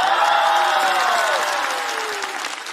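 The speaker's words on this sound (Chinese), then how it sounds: "掌声欢迎贾乃亮。" A studio audience at a comedy talk show bursts into loud sustained applause for an arriving guest, with a faint cheer and a gliding tone running under the clapping.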